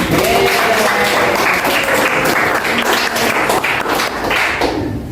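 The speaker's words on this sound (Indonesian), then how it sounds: "Oke, berikan tepuk tangan." Students in a classroom applaud steadily for about five seconds, a dense, loud wash of clapping hands throughout.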